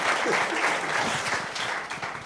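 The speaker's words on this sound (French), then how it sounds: "Vous pouvez l'applaudir" A crowd bursts into steady applause, dense clapping filling the short stretch at a constant, fairly loud level with no voices on top.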